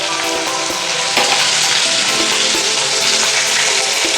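Cumin powder goes into a hot pan while cooking a Bengali sponge gourd dish, setting off loud, steady close-up sizzling and frying with a brief surge partway through, plus faint stirring taps underneath.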